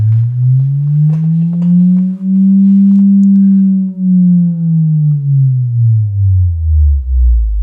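A steady 150 Hz sine test tone played in a classroom sweeps smoothly up and then down in pitch with slight wavering in level, with faint clicks and scattered noises in the room.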